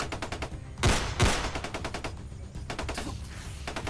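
Gunfire echoes from a distance outdoors: a rapid string of faint shots, then two louder, sharper bangs around the middle, followed by further scattered bursts of shots.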